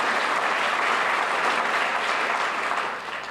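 Steady applause from a sizable audience at a hospital tower opening, a dense wash of clapping that holds evenly and then begins to taper off.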